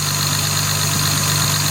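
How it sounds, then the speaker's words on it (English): Jaguar MKII car engine idling steadily with a slightly lumpy, uneven beat, a continuous close mechanical hum with faint vibration throughout. "I can feel a little lumpiness in the engine"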